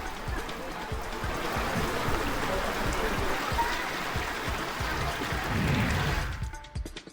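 Rainwater rushing through flooded city streets during unseasonal rain at Trimbakeshwar, a continuous broad wash of flowing water with faint background activity that drops away abruptly at the end.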